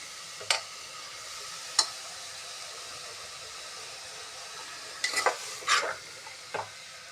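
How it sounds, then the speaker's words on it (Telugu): Grated carrot frying in ghee, a faint steady hiss broken by a few light spoon scrapes and clinks against the pan. "ఈ క్యారెట్ అనేది బాగా కొద్దిగా నేతిలో మగ్గిన దాకా వేయించుకోవాలి"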